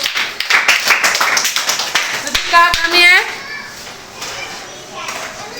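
A second-grade class of children claps together in a classroom, with quick bursts of hand claps in the first half mixed with lively children's voices that then fade to quieter chatter.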